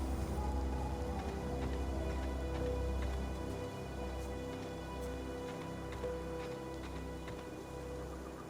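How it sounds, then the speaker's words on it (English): Rain falls outside in a video game, a low steady patter under a constant hum, with faint scattered drips and a soft low rumble but no talk. "now I'm hearing rain clouds outside"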